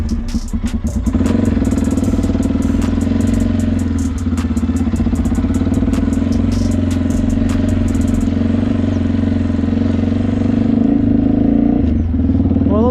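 A Yamaha Ténéré motorcycle being ridden, its engine running loud and steady with a rough, clattering drone throughout and no speech.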